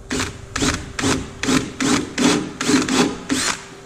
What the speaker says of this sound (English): What I've got here is a 7/16 bit. And also what I'm going to do is enlarge this hole.